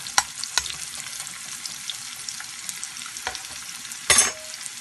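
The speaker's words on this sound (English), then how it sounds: "I have my chopped onions, and I have my minced garlic, and I'm going to give that a bit of a stir" Chopped onions and minced garlic frying in a hot pan, with a steady low sizzle and a few sharp spatula scrapes as they are stirred, ending in a louder burst of stirring.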